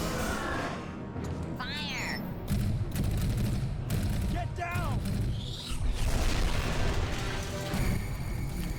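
Repeated booming cannon fire and explosions in Fortnite, loud and dense, with a voice talking over the barrage throughout.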